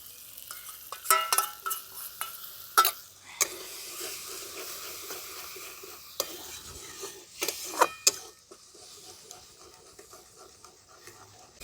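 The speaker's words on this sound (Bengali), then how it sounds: "এবার দিয়ে দেবো এই দইয়ের পেস্টটা।" Yogurt paste is stirred into tomato and ginger frying in oil, with a soft sizzle under scraping and clinking of a spoon against the pan in irregular bursts, close by and without talk.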